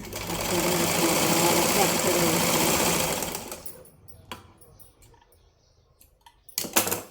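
A domestic sewing machine stitches the lining of a blouse, running steadily and loud for about three and a half seconds, then stopping. Faint handling clicks and rustles follow, with a brief burst of fabric movement near the end.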